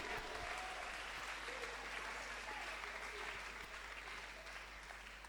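A church congregation applauds together during a sermon, a dense, steady wash of clapping that carries on unbroken and fades only slightly toward the end.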